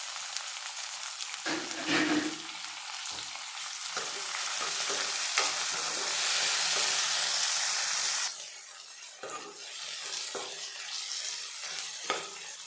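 Chopped tomato pieces fry in a hot pan for a palak (spinach) stir-fry, giving a steady loud sizzle with stirring scrapes and a few clatters; the sizzle drops to a quieter hiss partway through.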